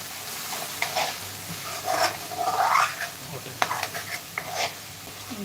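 Chicken masala being stirred and sautéed in a pan, spatula scraping through the sizzling mixture in uneven strokes, close and clear over a soft frying hiss, with no voices.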